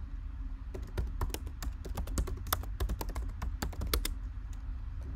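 Fingers type a password on a computer keyboard in a quick run of close, crisp key clicks with short pauses, and no one speaks.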